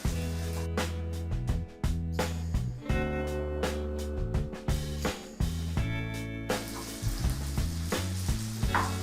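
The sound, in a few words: sago and peanut mixture being stirred and fried in pan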